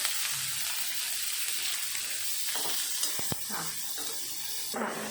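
Onion sizzles in a pan with mustard seeds, cumin and garlic, a steady fry with occasional stirring scrapes and a few sharper clicks partway through.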